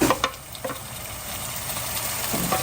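Chopped tomatoes hit a pan of frying onions for a Kerala-style chicken curry, and a bright sizzle follows with a few sharp spoon scrapes and clacks as the mixture is stirred close by.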